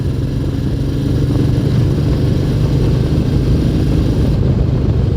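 A Royal Enfield Meteor 350 motorcycle being ridden in fifth gear during a speed test gives a loud, steady engine drone with heavy wind rush, heard from the rider's position.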